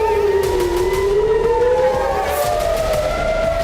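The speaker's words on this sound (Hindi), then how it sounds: "हिजबुल्लाह के हमलों से इजराइल के कई शहरों में सायरन गूंजने लगे।" Civil defense air raid sirens wail across Israeli cities during Hezbollah attacks, their loud tones slowly rising and falling in overlapping sweeps that carry continuously.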